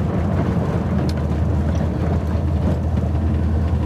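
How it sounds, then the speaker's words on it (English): A 1973 Camaro Z28 RS restomod with an LS3 engine rolls over a rough brick road, a loud steady rumble of tyres and engine with continuous broadband road noise throughout. "Okay, we're off the rough bricks back there."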